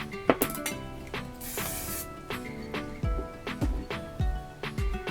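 A short hiss of hairspray from an aerosol can onto curled hair, with music playing throughout and rhythmic beats underneath.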